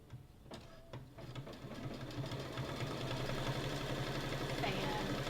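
A ScanNCut machine stitches a freestanding embroidered hot air balloon, giving a steady rapid mechanical patter that holds at an even level throughout, with some faint talk in the background.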